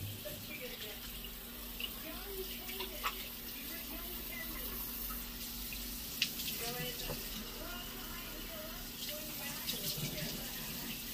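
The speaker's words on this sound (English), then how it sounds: "So first, I always put some warm water on my face." Warm tap water runs steadily from a faucet for rinsing a face, a continuous close splashing hiss with a few small splashes.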